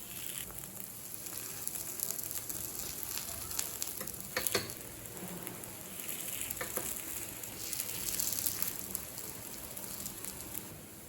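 Rava paniyaram frying in ghee in a paniyaram pan, a faint steady sizzle with soft crackles and occasional light taps, no talk.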